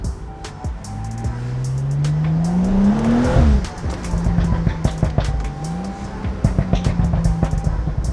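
BMW M135i turbocharged hatchback idling while warming up, with the throttle tapped for a rising rev that peaks and drops back, then settles into a steady idle with sharp clicks and pops, close and fairly loud, no talk.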